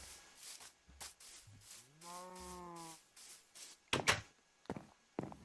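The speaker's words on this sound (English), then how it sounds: "This village has its own little farm with cows." Blocky cows moo in a Minecraft village farm, one long, clear, harmonic moo in the middle with sharper game sound effects and clatter around it and no talking.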